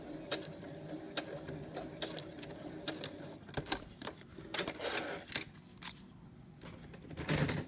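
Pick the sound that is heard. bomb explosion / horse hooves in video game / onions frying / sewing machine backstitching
sewing machine backstitching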